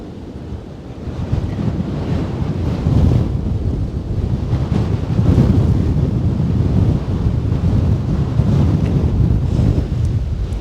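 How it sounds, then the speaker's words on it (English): Strong winter wind buffets the microphone in a Japanese garden in Tokyo, a continuous loud low rumble with gusty surges throughout, no talking. "The wind is really strong."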